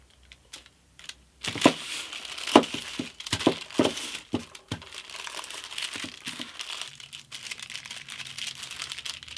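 Greaseproof paper crinkles and crackles as it is peeled away from sheets of Milliput epoxy putty. The sounds come as a close series of sharp, irregular crackling bursts with short pauses between them, then fade to quieter rustling.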